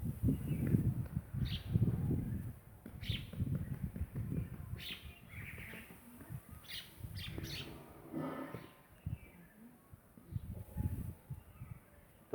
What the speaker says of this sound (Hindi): चिड़िया जो है अपने अपने घोंसलों से निकल करके भोजन की तलाश में